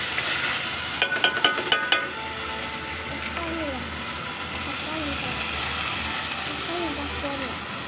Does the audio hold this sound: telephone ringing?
no